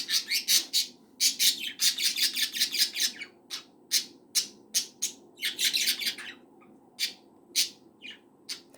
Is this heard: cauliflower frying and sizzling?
no